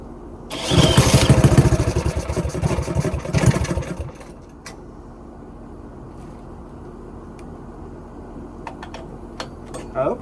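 A small go-kart engine cranks and sputters loudly for about three seconds, then cuts out to a quiet background with scattered clicks and a brief rattle at the end.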